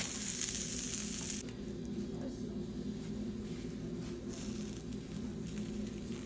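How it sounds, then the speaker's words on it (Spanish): Baguettes brown in butter on a comal, giving a soft, steady sizzle and light crackle close by, with a louder hiss at the start that eases off. "Agregamos mantequilla a nuestro comal y los vamos a poner a dorar."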